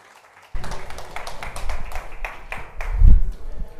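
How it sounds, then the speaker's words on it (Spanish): An audience at a research seminar on CO2 capture technologies welcomes Dr. Alejandro Montesinos, with clapping starting abruptly after a short silence, a modest crowd of hands, and a low thump near the end. "Por favor, demos la bienvenida y un gran aplauso al doctor Alejandro Montesinos."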